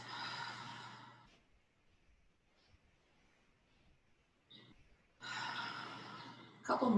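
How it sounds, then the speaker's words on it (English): Deep breathing during a mat pilates exercise: a long exhale, a quiet pause, then another drawn-out breath, close and soft, ending in a sharper intake. "Take some breaths."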